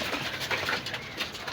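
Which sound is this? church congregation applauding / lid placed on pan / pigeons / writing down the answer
pigeons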